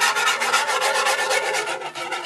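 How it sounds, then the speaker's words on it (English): Whisk scraping briskly around a pan of gravy for Swedish meatloaves, a close, continuous rhythmic rasping stroke that carries on without talk. "I'm gonna keep whisking it away"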